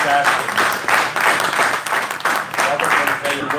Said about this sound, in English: So big applause for Robert Easter